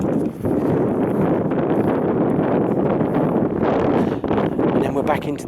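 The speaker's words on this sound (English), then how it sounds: "And the wind's coming across us here." Strong wind buffeting the microphone near Woodhead Castle, a loud, continuous rumble and roar that gusts slightly throughout.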